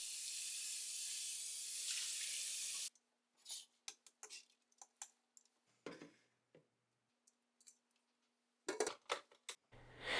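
Soaked beans being drained and rinsed under kitchen water: a steady rushing flow at first, then a series of short splashes, clicks and sloshing bursts as the beans are shaken and rinsed, close by, with no talking.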